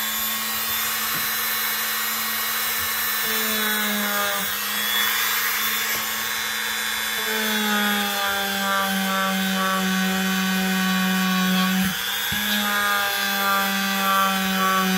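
A felt polishing pad working over the blade of an old orange knife, heard as a loud, steady motorized whine with shifting pitch and continuous rubbing friction throughout.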